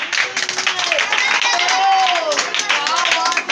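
Children at a school for physically handicapped kids in Gabbur, Hubli, clapping hands together at a birthday celebration, a steady run of claps over a noisy room with voices and chatter throughout.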